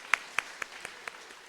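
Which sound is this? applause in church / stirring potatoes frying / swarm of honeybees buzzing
applause in church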